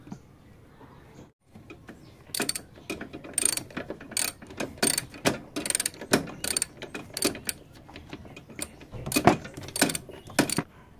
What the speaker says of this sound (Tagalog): So gamitan natin ng socket.